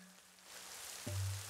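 Cartoon rain builds into a soft, steady hiss that holds through most of the short stretch, with a low hum joining near the end.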